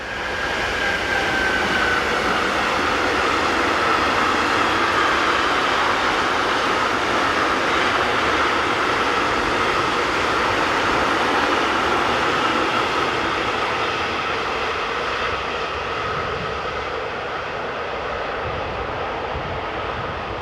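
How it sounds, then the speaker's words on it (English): Electric locomotive 185079 hauls a string of Rins sliding-hood freight wagons north on the Bremen–Hannover line in Germany, a loud, steady rolling roar of wheels and traction that holds throughout and only eases slightly near the end. "Heading north we see 185079 with a set of Rins type sliding hood wagons."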